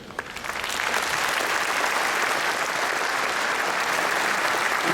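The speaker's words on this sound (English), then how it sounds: "Please join me in applauding these members who join us now as new members." An audience at the opening ceremony of an international convention in Sydney breaks into steady applause for new members, rising within a second to a dense, sustained wash of clapping.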